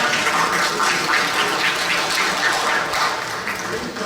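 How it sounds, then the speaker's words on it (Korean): Audience applause for the session chair at an academic conference, a sustained round of steady clapping from a hall full of people that fades slightly toward the end, with no talking. "큰 박수 부탁드립니다"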